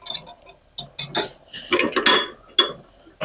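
A lid comes off a pot of hamburger stew on the stove with a series of sharp metallic clinks and scrapes, bursts of rattling between brief quiet gaps, fairly close.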